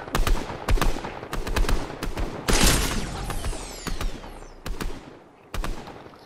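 Gunfire in a trios no-builds shooter video game: a string of loud, sharp shots and short bursts at uneven intervals, with a brief louder volley partway through.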